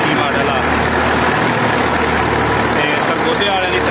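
A 2021-model thresher driven by a tractor runs steadily through a mustard harvest, its engine a loud, continuous close drone with a dense mechanical rumble and no break.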